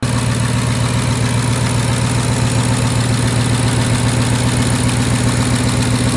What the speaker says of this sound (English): It's just a ticking noise that we've dealt with for the last 2 years.